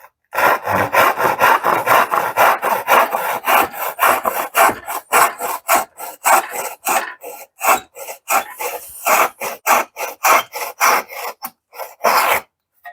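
A hand dovetail saw cutting wood in steady back-and-forth strokes, loud and close. The rasping strokes are fast and continuous at first, then become separate strokes with brief gaps, and no one talks.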